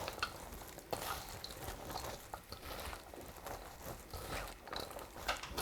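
Julienned radish being gently hand-mixed with red chili powder for a Korean radish salad, a soft, close, irregular wet rustling and patting with no talking.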